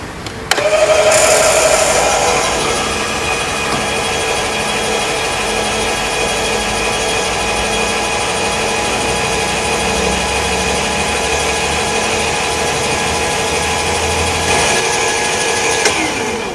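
An electric caravan jockey leg motor runs steadily at close range for roughly fifteen seconds as it extends the leg, with a sharp onset and a clean stop at the end.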